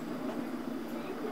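Steady low rumble inside a London Underground District Line train running between West Brompton and Fulham Broadway toward Wimbledon, a continuous, moderately loud on-board drone with no clear breaks.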